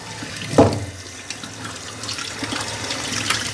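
Water runs steadily from a tap onto a wristwatch, a continuous close splashing hiss with one brief louder splash near the start.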